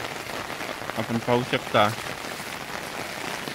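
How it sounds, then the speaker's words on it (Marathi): Steady rain falls in a village, a soft even patter that runs through the whole stretch, with a person speaking briefly over it near the middle. "आज सकाळपासून रात्रीपासून पाऊस चालू आहे"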